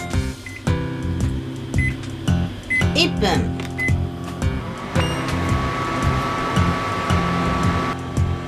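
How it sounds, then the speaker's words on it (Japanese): A microwave oven running at 500 watts heats French toast soaked with vanilla ice cream, giving a steady, faint electrical hum beneath a woman's continuous chatter and some kitchen clatter. "なんと電子レンジに入れちゃう。"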